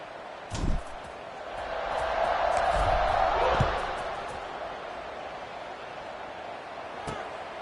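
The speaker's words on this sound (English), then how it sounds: "this crowd is feeling themselves after that last drive" A college football stadium crowd at kickoff between Coastal Carolina and an FCS East opponent, a distant swelling roar that builds for a couple of seconds and fades, with a sharp thump and a commentator talking over it.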